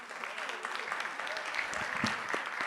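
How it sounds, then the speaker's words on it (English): A conference audience claps for a panel, a moderate wash of applause with a few distinct hand claps and faint murmuring voices under it. "can I ask you to give my panelists a round of applause?"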